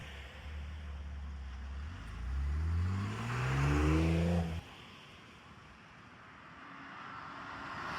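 A manual BMW G80 car accelerating hard, engine revving up through rising pitch before cutting off abruptly, loud and close, followed by quieter rumbling road noise.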